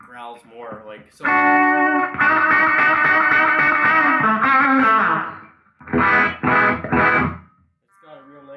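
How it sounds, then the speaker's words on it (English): Crunchy overdriven electric guitar, a Gretsch Brian Setzer Hot Rod, a thick sustained chord ringing out, then a few short strummed bursts, loud and close, with a pause in between. "It's got a real nice crunch to it."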